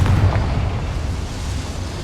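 A blasting spell erupts in the Hogwarts Legacy video game, a loud, deep, rumbling explosion that roars through the whole moment without a break and slowly settles.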